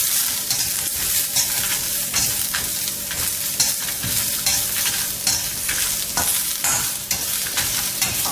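Dried red chillies fry in hot oil for a coconut gravy, giving a loud, continuous sizzle close by, broken by frequent crackles and stirring scrapes throughout.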